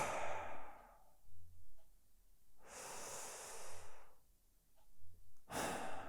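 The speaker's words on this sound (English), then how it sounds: "just focus on your breathing" Slow, deep meditation breathing, close and alone: long airy inhales and exhales alternate in an even rhythm with quiet pauses between them.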